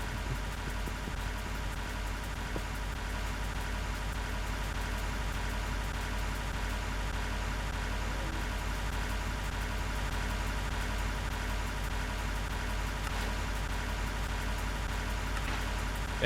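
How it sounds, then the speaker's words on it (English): Engines in a Minecraft Nomifactory factory setup drone in a constant, even hum with a low rumbling tone, running steadily for the whole stretch with no speech. "And also the engines are quite loud"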